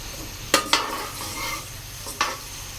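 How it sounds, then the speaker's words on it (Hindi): Finely chopped medium onion frying in a pan until lightly browned, a soft continuous sizzle broken by a few sharp scrapes of a spoon against the pan. "अब प्याज को हमने हल्का सा ब्राउन करना है।"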